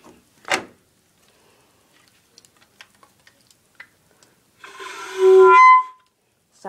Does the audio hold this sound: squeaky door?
yes